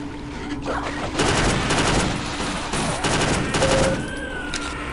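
A Glock-style pistol in Half-Life: Delta Particles firing in short, rapid bursts, loud and close, several tight clusters of shots following one another, with faint game ambience between and no talking.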